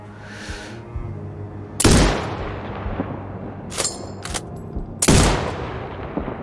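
Two sharp, loud rifle shots ring out in the Sniper Ghost Warrior 2 video game, several seconds apart, each with a long echoing tail, and a few fainter clicks and bangs in between.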